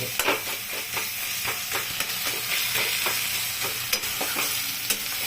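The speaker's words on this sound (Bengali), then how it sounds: "খুন্তির পিছন খুন্তিটা দিয়ে না এরকম একটু ভেজে দিবেন, তাহলে একদম মজে যাবে।" Pointed gourd frying for a gourd curry while the back of a spatula presses and stirs it, a loud continuous sizzle broken by regular scraping strokes against the pan, close up and without voices.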